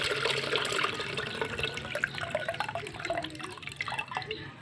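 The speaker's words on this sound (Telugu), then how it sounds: "ఇది చింతపండు పులిపండి ఇది పప్పులో వేస్తున్నామండి" Tamarind juice is poured into a bowl of boiled lentils for Andhra-style rasam or sambar, a steady close splashing and trickling pour that runs continuously with no voices.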